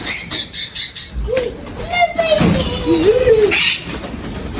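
Captured parrots flutter their wings and let out chirping, whistling calls close by, the calls rising and sliding over steady flapping and rustling, with a brief thump near the start.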